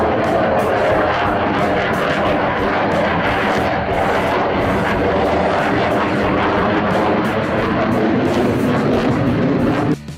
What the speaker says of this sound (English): Number 4. Eurofighter Typhoon.